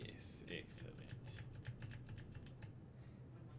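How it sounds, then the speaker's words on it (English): A computer keyboard clacks in rapid, uneven bursts of keystrokes, fairly close, with people talking and a faint low hum underneath. "Just all of the keyboard clacking."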